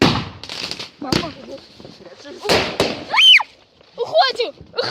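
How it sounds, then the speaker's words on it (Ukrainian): A New Year's Eve firework salute bursts nearby in a few sharp loud cracks and pops, mixed with frightened shouting and cries from people close to it. "Это был салют слишком опасный."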